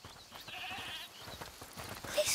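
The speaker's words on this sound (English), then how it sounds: "Is that the goat he talked about?" Goat bleating in the video game A Plague Tale: Requiem, a few short bleats heard from a distance through a steady ambient game background, with no talk.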